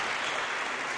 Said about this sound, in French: Et on applaudit, c'est ça qui est merveilleux.